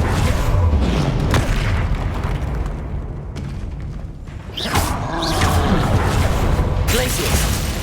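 Booming spell blasts from a Confringo fire spell in the video game Hogwarts Legacy, loud and dense, several heavy bursts rolling over a continuous roar of battle effects.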